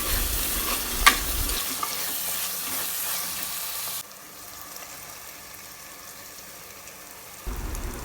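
Onions and tomato frying in a pan for Kerala-style squid curry, a steady broadband sizzle with stirring scrapes and one sharp clink early on, fading quieter partway through.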